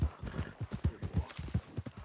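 Horse hooves clip-clop at a steady walking pace in Red Dead Redemption 2, a close, evenly spaced run of hollow thuds.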